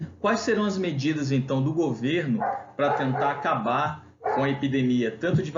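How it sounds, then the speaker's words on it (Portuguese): A dog barks in the background, mostly buried beneath continuous close speech from a Portuguese-language lecture. "Desculpa o cachorro latindo ao fundo"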